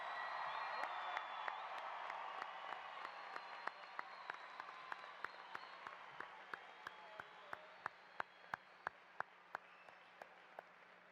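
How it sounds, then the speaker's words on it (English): Applause for high school graduates at a graduation ceremony, a broad steady wash of clapping from a large crowd that carries on for the whole stretch, with distinct louder claps popping out near the end. "Let's give them one more round of applause"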